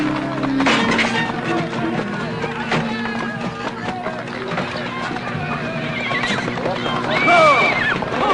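Several horses neigh and whinny amid hoof clip-clop and loud, busy activity, with people talking over it, in a rural gathering where livestock is being handed out in a 1981 film.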